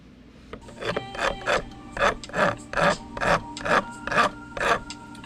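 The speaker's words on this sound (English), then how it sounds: "I want to try to only grind it on the downstrokes" Pure bullion gold being ground by hand with a file, about ten rhythmic rasping strokes in even succession, close and clear with no speech.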